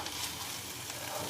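Chopped tomato sizzles steadily in a hot pan as it is stirred, a continuous close-up frying hiss with no pauses.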